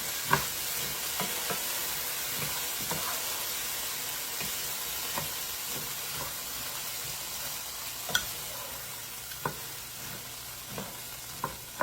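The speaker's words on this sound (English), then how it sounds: "And then it says to let the corn just kind of saute." Corn sautés in a pan with a steady, close sizzle and frying hiss, broken by occasional light clicks from stirring.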